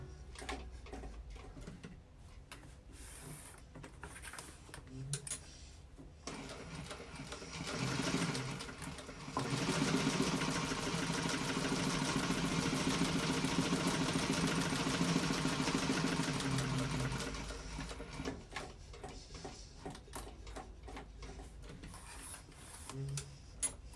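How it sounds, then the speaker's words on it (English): A sewing machine stitching a Trailblazer convertible backpack runs in a sustained, fairly quiet whirring burst in the middle, with sparse mechanical clicks and handling noises before and after. "I'm just sewing. It's nothing really exciting."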